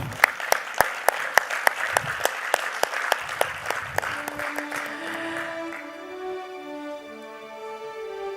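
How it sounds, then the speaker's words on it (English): An audience at a panel discussion event in Mumbai applauds, starting with a few loud, regular claps that spread into broad crowd clapping before fading under a sustained musical tone. "can I request a bigger round of applause from you?"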